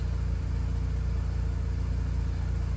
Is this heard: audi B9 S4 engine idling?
yes